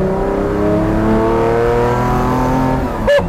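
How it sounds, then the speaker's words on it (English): A Lamborghini Diablo GTR engine revs hard and climbs in pitch, loud and close, with a sustained howling roar before a brief break. "The car gets so angry at high revs"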